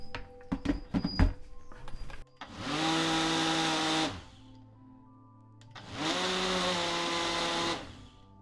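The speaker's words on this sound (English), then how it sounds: "I'm now putting it into this liquidizer" A liquidizer blends cooked Cordyline australis plant in two loud, steady whirring bursts of about two and a half seconds each, with a short pause between them, after some clattering handling noises at the start.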